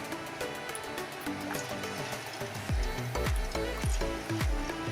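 Gulab jamun dough balls dropped into hot oil in a kadai, a steady close sizzle with bubbling bursts that swell louder in the second half, no talk.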